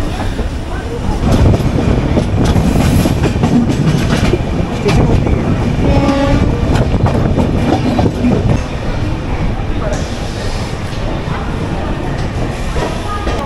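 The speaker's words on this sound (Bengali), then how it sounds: "এখন 7:10 ট্রেন ছেড়ে দিয়েছে আবার, আর দীঘার দিকে আবার রওনা দিয়েছে" A passenger train bound for Digha rolls along at a steady pace. The carriage rumble is loud and continuous, with rhythmic clickety-clack from the wheels on the rail joints and some voices mixed into the noise.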